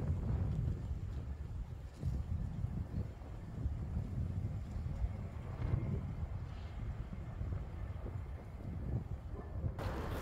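Steady wind buffets the microphone of a bike ridden along roads in windy, rainy weather, a continuous low rumble and roar that surges slightly throughout with no voices.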